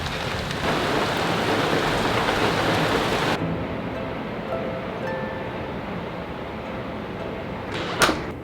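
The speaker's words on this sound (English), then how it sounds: "The rain's finally moving in. Oh yeah, the storms are coming." Heavy pouring rain from an incoming storm roars steadily and loud, then drops to a softer steady downpour partway through, with a brief knock near the end.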